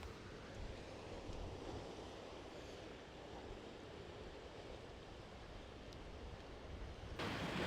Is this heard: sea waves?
yes